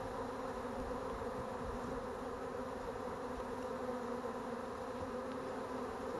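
Steady, close drone of a honeybee swarm being captured, many bees fanning their wings to signal the new home, an unbroken buzzing hum throughout with no talking.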